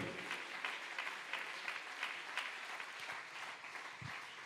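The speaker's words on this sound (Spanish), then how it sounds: "Denle ese aplauso más fuerte al Señor" A church congregation at Sunday school applauds in worship, a steady, fairly faint wash of many hands clapping that holds unbroken throughout.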